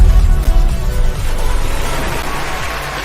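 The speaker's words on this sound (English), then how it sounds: "Oh man, listen to that crowd." A crowd applauds and cheers in a dense, steady roar that stays loud and continuous for about three seconds, with no talking over it.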